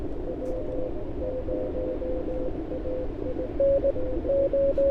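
CW Morse code received on a ham radio, a thin keyed tone beeping in short dots and dashes over steady hiss and static. It is faint at first and grows more distinct toward the end.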